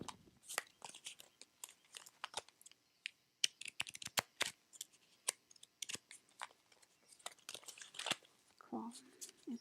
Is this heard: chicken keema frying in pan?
no